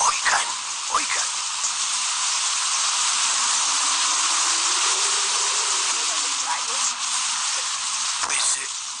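Heavy rainstorm pouring down outside, a dense, steady hiss of rain that holds loud and constant throughout, with a few sharper spatters and faint voices underneath.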